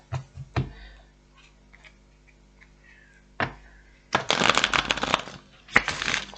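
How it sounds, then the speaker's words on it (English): Tarot cards riffle-shuffled close up: a few light taps and slides, then two loud bursts of crisp rapid fluttering riffles. "let's just give this a little bit of a shuffle"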